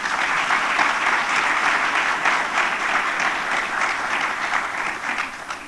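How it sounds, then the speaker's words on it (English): An audience at a business association's annual meeting gives the panelists a sustained round of applause, many hands clapping in a dense, even wash that fades slightly at the close. "Can we please give our panelists a round of applause?"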